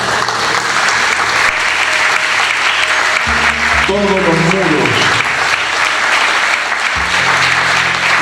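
Congregation clapping in a church service, a continuous loud roar of many hands throughout, with a voice speaking over the applause and low sustained tones underneath.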